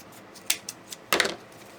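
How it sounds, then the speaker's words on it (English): Sharp scissors snip through buffalo plaid ribbon at an angle to make a fishtail end for a garland: a few quick, close cuts, with a denser burst of snipping near the end. "you're going to cut with your scissors on an angle from the closed section to the open section."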